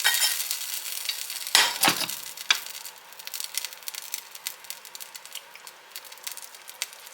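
A beef and cheese quesadilla with a sliced-cheese layer sizzling in a pan, a bright steady hiss with a couple of sharp spatula knocks early, then a crackling patter.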